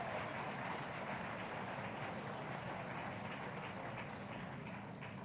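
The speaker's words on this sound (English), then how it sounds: "I think we need to give them a round of applause." A large graduation ceremony audience applauding in a big hall, heard as an even, continuous roar of distant clapping without distinct individual claps.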